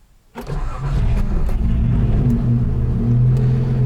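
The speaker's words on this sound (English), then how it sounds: "let's see if this thing will fire up and go" An old Datsun 280Z's L28 engine with straight-pipe exhaust cranks and catches, then settles into a loud, rough idle with uneven pulses, close by.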